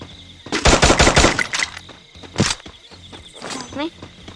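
Bursts of close, loud automatic gunfire from the battle-royale game Free Fire, a rapid volley followed by single sharp shots and a short later burst, with quiet moments between.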